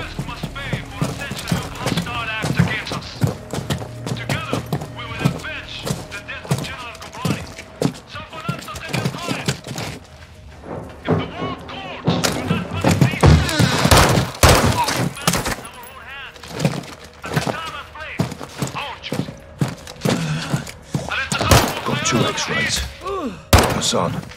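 Gunfire in the Call of Duty Modern Warfare 2 campaign: dense, repeated sharp shots and bursts crackle throughout, near and loud, some volleys layered over a steady game soundscape with occasional voices.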